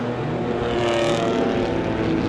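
Stock cars racing around a dirt speedway track in Manawatu, a steady loud engine roar from several cars with no break, one car swelling a little nearer midway through.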